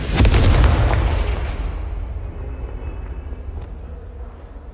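Confringo blast spell explosion in Hogwarts Legacy: one sudden loud boom that decays into a long, fading rumble over several seconds, with no voices.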